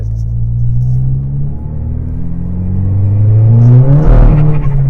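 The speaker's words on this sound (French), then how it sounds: "Vous avez entendu les amis directement l'anti-patinage qui coupe." A rally car (VW Polo 6R WRC) engine revs hard and climbs in pitch, a loud rumbling acceleration with a stuttering, choppy edge near the end as traction control briefly cuts power.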